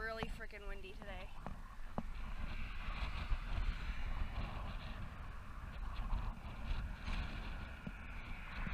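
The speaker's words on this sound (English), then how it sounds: "It is really freaking windy today." Strong wind buffets the microphone with a constant low roar, and a voice speaks briefly at the start.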